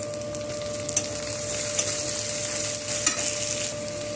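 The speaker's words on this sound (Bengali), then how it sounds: "সব কিছুকে একটু ভেজে নেব।" Chopped vegetables frying in a pan, a steady close sizzle with a few sharp spoon clinks as they are stirred, under a faint constant hum and with no talk.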